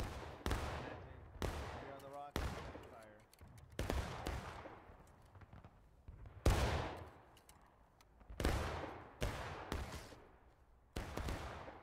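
Musket volleys in War of Rights, a Civil War battle game: about ten loud, near shots at irregular intervals, each with a sharp crack and a long echoing rumble fading out, with players talking in between.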